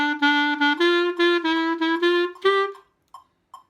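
Bb clarinet plays a short beginner phrase: about ten clean, even notes, a repeated tone stepping up in pitch, close and steady, followed by two faint soft blips after the phrase ends.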